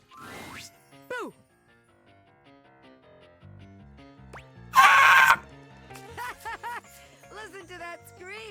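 A character screams in the video game Date Everything, a short loud burst midway through a stretch of game music, chimes and cartoonish voice sounds.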